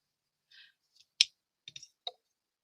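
Scissors snipping paper for a card-making craft, a few crisp, quiet, close cuts and clicks spaced out over a couple of seconds in an otherwise silent room.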